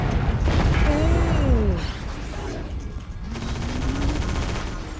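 Gunfire in the Area 51 video game: a dense burst of rapid shots and crashing impacts at the start, then quieter scattered mechanical clatter, with a voice talking over parts of it.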